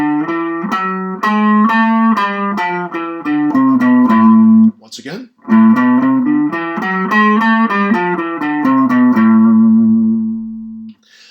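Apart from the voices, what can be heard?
guitar playing melodic minor scale up and back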